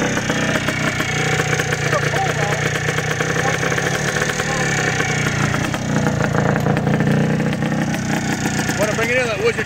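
A restored 1984 Yamaha YZ465 two-stroke motorcycle idles loud and close with off jetting, a rough steady burble with uneven pulses throughout, while people talk over it.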